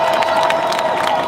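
A street march crowd cheering and shouting together, a continuous loud wash of voices with rising whoops, heard close and all at once for a brief moment.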